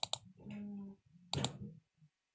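Computer mouse clicks while working in an Excel spreadsheet, a sharp double click at the start and another click burst about a second later, close and quiet, with someone speaking between them.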